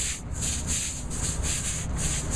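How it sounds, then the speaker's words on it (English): A push broom scrubs soap into a roof base, with rhythmic back-and-forth bristle strokes rasping steadily and close up. No talk. "then we'll just scrub it a little bit with one of the push brooms"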